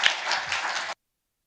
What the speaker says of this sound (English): please a big applause for our panelists